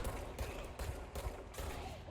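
Gunfire in the video game Control, a rapid run of bursts with several sharp shots in quick succession, fairly faint under a busy game mix.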